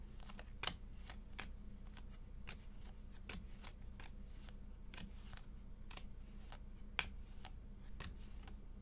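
Pokemon cards are handled and sorted by hand, giving faint, steady papery flicks and soft clicks at an irregular pace, with a low hum underneath and no talking.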